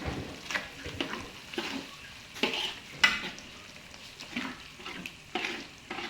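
Beef stirred with spices in a pan, a soft steady sizzle broken by repeated scraping stir strokes at irregular intervals, close and fairly quiet.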